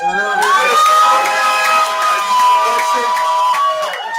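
A live studio audience cheers and whoops at a boxing pre-fight show, a loud, sustained crowd roar with high shouts and whistles running throughout.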